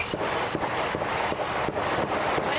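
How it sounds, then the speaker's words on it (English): A rapid series of sharp, distant gunshots cracking out in irregular bursts over a noisy background, fired near the White House. "That's a lot of gunshots, y'all."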